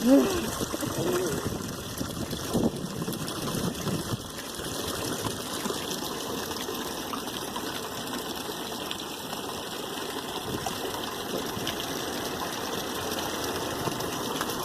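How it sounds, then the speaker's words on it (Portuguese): Water gushes steadily from a public fountain spout in Betanzos, Galicia, a continuous splashing rush heard up close, with faint voices in the background. "Onde tem um que está saindo mais água."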